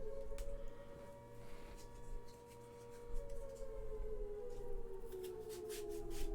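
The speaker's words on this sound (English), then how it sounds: "The sirens are upsetting, wouldn't you say?" Sirens wail quietly in the background as a long, drawn-out tone slowly falls in pitch over a low hum, with no one speaking.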